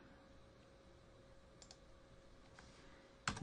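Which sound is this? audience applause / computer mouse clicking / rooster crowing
computer mouse clicking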